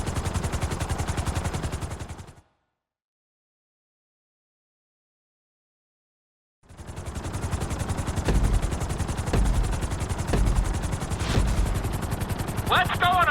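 Helicopter rotor and engine noise from a helicopter flight lesson in Grand Theft Auto 5, a loud steady chopping drone that cuts out to several seconds of silence before returning, with bursts of gunfire-like impacts and a voice speaking over it.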